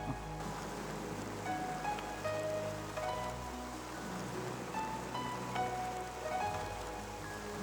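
Steady rain pours down with a constant broadband hiss, accompanied by faint tonal hums and low rumbles in the background, with no talking.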